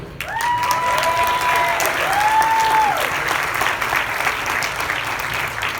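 Audience applause fills a hall at the 2019 California Democratic Party endorsing convention, steady and dense from start to finish, with a sustained whistle-like tone arcing over the clapping.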